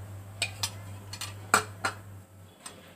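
A spoon clinks against a pot while ground black pepper is stirred into carrot soup, giving several sharp metallic taps spaced irregularly over a low steady hum, with no voices.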